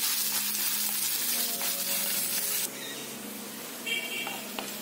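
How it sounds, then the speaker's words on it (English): Finely chopped onion sautés in a pot with a bright, steady sizzle that softens partway through, with a few faint clinks and stirring touches mixed in. "Onion finely chopped. Sauté this till translucent."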